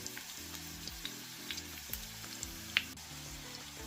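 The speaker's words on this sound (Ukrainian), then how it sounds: "На розігрітій олії смажимо на середньому вогні." Quiet, steady sizzling of cabbage patties frying in hot oil over medium heat, with small pops and crackles scattered throughout and one sharper spatter near the end.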